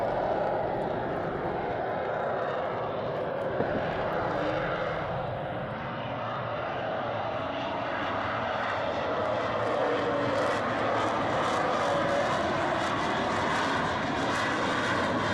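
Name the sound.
jet aircraft at full afterburner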